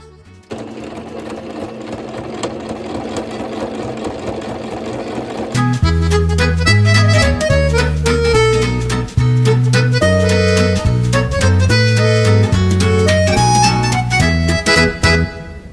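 A Singer sewing machine starts with a low hum, then runs fast and loud at close range with a steady mechanical whir and rapid needle chatter, briefly pausing once before carrying on to the end.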